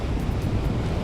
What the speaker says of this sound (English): I'm just waiting for the waves to come in and surround the rock and go back out